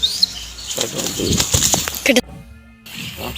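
A pet pigeon flaps its wings as it flies in during training, a short burst of fluttering close by, with a person talking over and around it.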